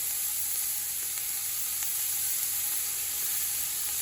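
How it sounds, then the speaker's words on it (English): Onions with salt and pepper frying in a pan, a soft, constant sizzle with faint occasional clicks, steady and unbroken with no talking. "Let's just cook the onions a little bit."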